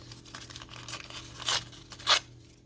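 Paper for junk journal ephemera being cut and torn at a craft table, a steady papery rustle punctuated by two sharp, louder ripping strokes, close and alone without talk.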